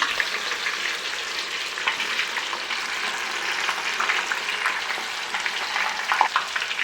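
Bhringraj leaves fry in homemade coconut oil with a steady, bright sizzle and crackle, close and continuous, with occasional louder pops and faint stirring.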